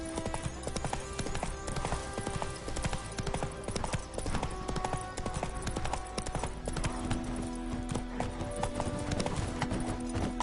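Horse hooves galloping in The Witcher 3, a steady, continuous clip-clop rhythm that runs throughout at moderate loudness over a busy game soundscape.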